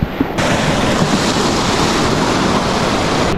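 Sea waves wash continuously onto the shore in a loud, steady roar of surf, with wind rushing across the microphone and no voices.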